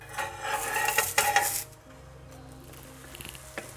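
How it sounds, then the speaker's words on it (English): A toasted sandwich flipped on a tawa pan, with a burst of metallic scraping and clatter from the spatula followed by a softer, lingering sizzle and a final light tap. "So now it's time to flip the toasted sandwich."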